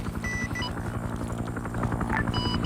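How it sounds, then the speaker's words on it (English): A helicopter in a Vietnam war video game thumps with rapid, evenly spaced rotor beats over a droning engine hum, a steady chop close by with no talking. "that's the helicopter"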